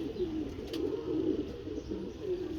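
Pigeons coo in a low, continuous throaty murmur close by, soft and steady throughout with faint chirps above and no talking.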